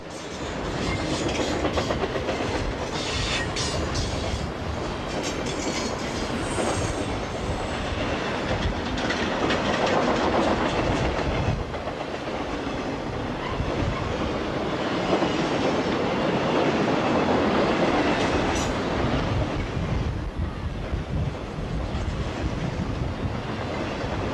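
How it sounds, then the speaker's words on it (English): A long Norfolk Southern piggyback freight train led by two EMD GP50 diesel locomotives rumbles steadily past nearby at track speed with a continuous roar, rattling cars and rhythmic clickety-clack of wheels over the rails. "northbound piggyback train 220 with two EMD GP50s leading it at track speed"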